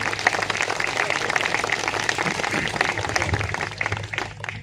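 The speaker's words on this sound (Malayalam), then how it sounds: "നമുക്കെല്ലാവർക്കും നല്ലൊരു കയ്യടി ഈ മാനേജ്മെന്റ് കൊടുക്കണ്ടേ?" An audience at a New Year celebration at a Wayanad resort claps for the management, with steady, moderately loud applause that fades slightly toward the end.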